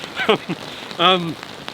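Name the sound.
rain falling outdoors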